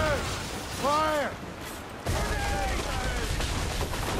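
Ship cannons fire in a naval battle in Assassin's Creed Rogue, a heavy volley of booms and crackling blasts rolling through the second half under a steady roar of battle noise, with a short harmonic shout before it.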